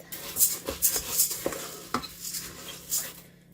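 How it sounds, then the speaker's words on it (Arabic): Rice tossed and stirred in hot oil in a pot over high heat, with a spoon scraping and clinking against the metal in irregular strokes, a light sizzle underneath. "هدي الرز كده تشويحه بحيث ان هو يكون كله اتغلف بالماده الدهنيه"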